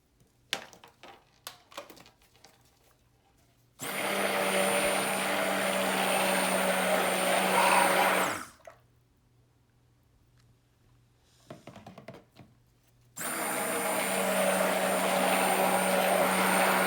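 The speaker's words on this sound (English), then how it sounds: "So we decided to stick blend after all" A stick blender mixes apricot-scented cold process soap batter in two steady whirring bursts of several seconds each, with quiet clinks and handling noise in the pauses between them.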